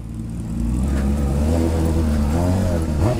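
A Honda Hornet motorcycle engine fires up and settles into a strong, rising rev, the mid-pitched exhaust note close and loud with a steady throb throughout.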